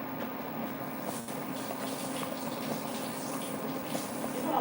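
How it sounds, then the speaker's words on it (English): Faint tap water runs steadily while a Scotch bonnet pepper is rinsed in a home kitchen, a soft continuous wash of splashing with no speech. "I'm just going to rinse the Scotch bonnet pepper."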